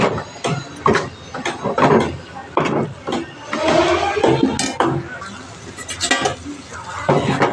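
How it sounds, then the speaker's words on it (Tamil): Sambar powder being stirred in a cooking pot: a string of close, uneven scraping and knocking strokes of a utensil against the metal, loud and irregular. "சாம்பார் பொடி போட்டாச்சு நல்லா கிளறி விட்டுக்குவோம்"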